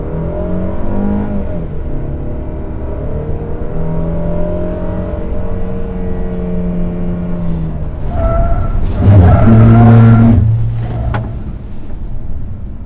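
A 2019 Jeep Renegade drives through an evasive manoeuvre on the road, its engine droning steadily, then straining louder with a burst of tyre squeal and skidding toward the end.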